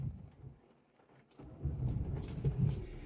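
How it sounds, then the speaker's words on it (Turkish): A car engine starting on a cold winter day with the windscreen fogged up: quiet at first, then a low rumble that swells after a brief pause and settles into a steady idle, close by. "Arabayı hemen çalıştırıyorum"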